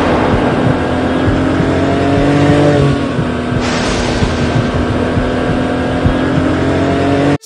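A Datsun 240Z's engine droning steadily while driving, loud and close, with the pitch rising slightly under acceleration before easing into a constant cruising hum.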